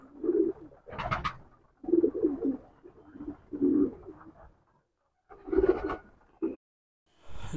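A performer pigeon coos nearby in low, throaty bursts, several repeated calls separated by short pauses.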